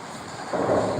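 Strong coastal wind of about 40 knots in the southern Outer Banks, a broad roaring rush that swells louder partway through and holds steady, with no talk.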